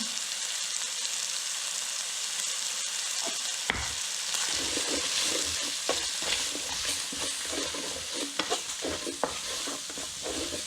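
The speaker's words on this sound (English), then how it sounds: "we're just going to give this a stir for about 20-30 seconds" Zambian cabbage with pork, salt, pepper and spices being stirred in a hot pan, a constant sizzle with scraping strokes of the spoon, close and alone.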